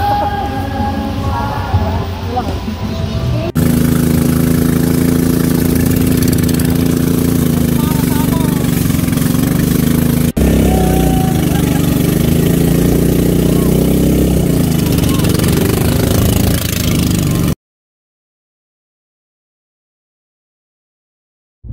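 A motor boat engine runs steadily on the water in Rodriguez, Rizal, a loud continuous drone with people talking over it, ending abruptly in silence.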